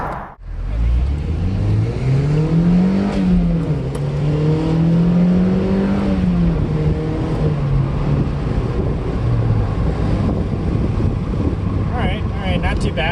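A 2007 Mazda Miata NC's engine pulls hard on an open road, its drone climbing through the revs, easing back, then rising again, with heavy wind rush from inside the cabin.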